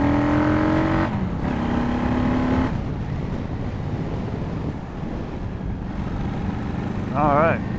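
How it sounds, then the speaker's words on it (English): A 2006 Honda VLX600 motorcycle engine runs steadily while being ridden on a road in Cleburne, Texas, a continuous near rumble with harmonic whine rising between gear changes, buffeted by heavy wind noise, with a brief higher tonal squeal near the end. "Oh, this bike feels pretty good to ride."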